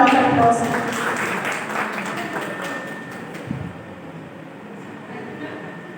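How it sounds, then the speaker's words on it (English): Audience applause welcoming a speaker at a school training session, a rattling wash of clapping that starts strong and slowly tapers over a few seconds, with a faint thump partway through. "Welcome her with a big round of applause"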